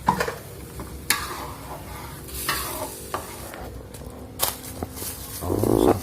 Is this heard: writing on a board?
no